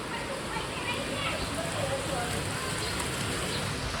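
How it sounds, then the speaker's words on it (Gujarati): Heavy rain falls steadily over a flooded residential street in Surat, where the water rises high enough to cover car tyres. It makes a dense, continuous broadband hiss with no breaks, close and fairly loud. "હજી વરસાદ ચાલુ છે."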